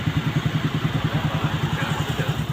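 A motorcycle carrying two riders passes on a winding mountain road in Atimonan, Quezon, its mid-pitched engine pulsing in a steady, rapid throb that stays loud and close throughout.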